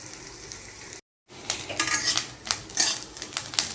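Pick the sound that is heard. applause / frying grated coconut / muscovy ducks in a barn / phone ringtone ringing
frying grated coconut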